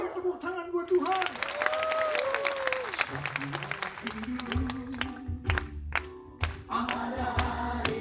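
Scattered clapping and crowd sounds rise from a church crusade congregation, uneven and punctuated by thumps, mixed with singing voices and music in a large hall.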